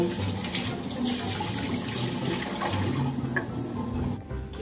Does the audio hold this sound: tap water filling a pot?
yes